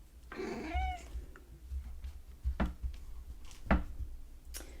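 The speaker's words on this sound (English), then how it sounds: "since yesterday, the kitty cat's been coming around during the readings sporadically" A cat meows several times, one drawn-out harmonic call near the start followed by shorter, sharper meows spread through the rest, fairly close against a quiet indoor background.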